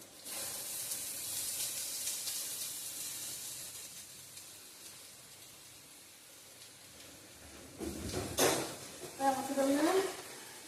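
Onions frying in oil in a pan give a soft hissing sizzle that fades gradually, followed by a short clatter and then a person speaking.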